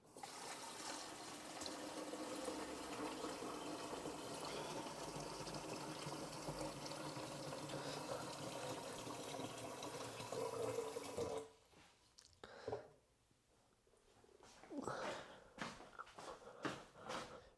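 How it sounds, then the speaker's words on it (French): Water runs steadily into the tank of a Jimmy R9 water purifier, a continuous trickling flow that stops partway through, followed by scattered clunks and handling noises. "vous pouvez prendre votre bac, aller le remplir et revenir tranquillement"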